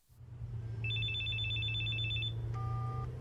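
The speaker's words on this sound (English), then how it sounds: "my phone started ringing" A telephone rings in two trilling electronic bursts over a steady low engine hum, as if heard inside a moving car.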